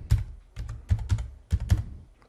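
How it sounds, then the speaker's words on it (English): A computer keyboard is typed on while entering a password at a Linux terminal, a handful of close, distinct key clicks in uneven short bursts with no voices. "just hit enter, type your password"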